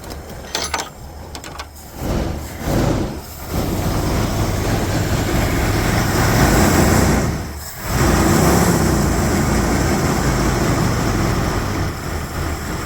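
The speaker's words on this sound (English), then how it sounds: "This is idling. Charging her own battery." An old engine runs and idles roughly while charging its own battery, a loud, steady mechanical drone with a couple of brief dips and stumbles early on before settling into a continuous rumble.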